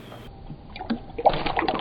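Pet bass splashing the water in its tank after eating worms, a few short splashy bursts building near the end, close and moderately loud.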